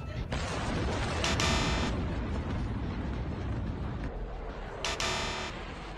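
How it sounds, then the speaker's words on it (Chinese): Heavy artillery fire in the Russia-Ukraine war booms in a sustained, loud roar of blasts and rumbling, with sharper bursts breaking through near the start and end. "俄乌战争炮火猛烈"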